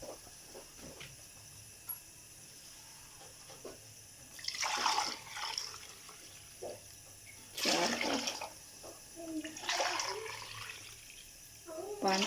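Water poured for cooking chicken fried rice, coming in several separate splashing, hissing pours of a few seconds each, fairly close, with quiet pauses in between.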